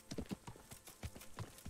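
A horse's hooves clip-clop in the video game Kingdom Come, with a quick, uneven run of close, sharp hoof strikes on hard ground.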